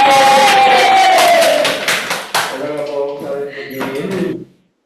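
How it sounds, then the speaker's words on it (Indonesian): Students at a school counseling session clap together with crowd noise and a few cheering voices. The sound is loud and dense, then thins out and stops near the end. "tepuk tangan semuanya"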